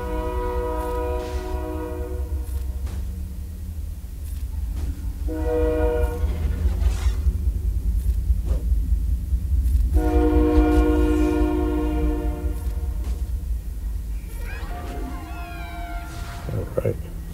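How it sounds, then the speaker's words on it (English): A train rolls past some distance away, its multi-tone horn sounding in several long blasts over a steady low rumble of wheels and cars, while someone talks over it in the foreground. "we got a train in the background"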